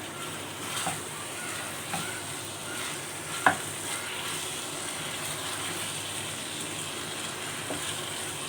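Potatoes and brinjal being mixed in a pan as they cook: a steady sizzle with scraping stirs every second or so and one sharp clack partway through, close and alone.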